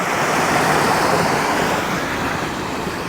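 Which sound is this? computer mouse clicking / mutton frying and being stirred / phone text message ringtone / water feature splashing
water feature splashing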